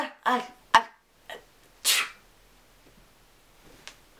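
A voice mimics a few soft, stifled sneezes: short breathy bursts, one sharper hiss, separated by quiet pauses.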